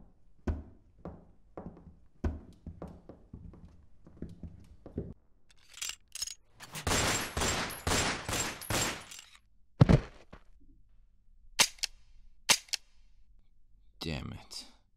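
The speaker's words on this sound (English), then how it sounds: "And all these gunshots, the dead will be here any minute now." A burst of rapid gunfire fills the middle, followed by several single sharp shots spaced apart, with quieter knocks and thuds before, in a zombie apocalypse roleplay.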